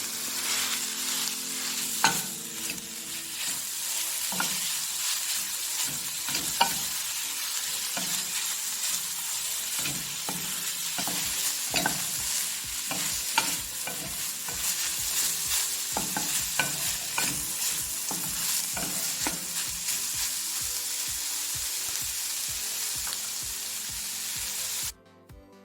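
Minced meat, 250 grams, sizzles and fries in a pan while being stirred, a steady bright crackle broken by repeated scraping strokes of a utensil, close and continuous throughout.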